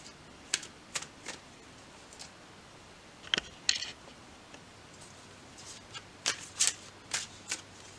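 Tarot cards being shuffled by hand in quick riffling bursts, with soft papery snaps spread across the stretch between brief pauses, close up against a faint steady background hiss.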